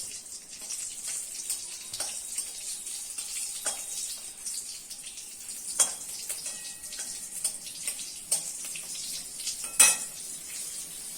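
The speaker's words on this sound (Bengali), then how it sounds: "ফোড়নের জন্য কাঁচা লঙ্কা আর কালো জিরা দিয়ে দিচ্ছি" Green chilies and black cumin sizzle steadily in hot oil in a kadai for a katla fish jhol, a close, bright crackle with scattered sharper pops.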